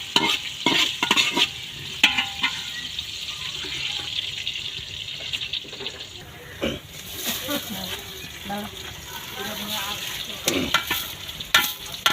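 Onions frying in a pot for picnic pulao, a steady sizzle with stirring scrapes and occasional clinks, close and moderately loud, with people talking in the background and some water running.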